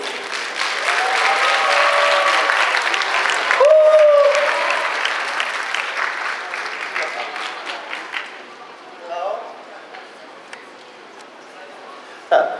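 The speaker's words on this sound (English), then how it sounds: "Clap your hands, please." A crowd at a university culture concert applauds and cheers during a prize draw, dense clapping for several seconds with voices and a shout over it, then fading into scattered claps and chatter.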